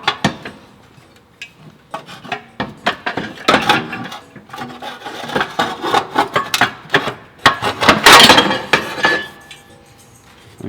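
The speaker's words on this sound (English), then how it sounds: "Now we're going to remove the stock manifold, gently work it down." Stock exhaust manifold being worked loose from a Lexus IS F engine bay, a run of sharp metallic clanks, scrapes and knocks of varying loudness, clustering densest near the end, with no talking.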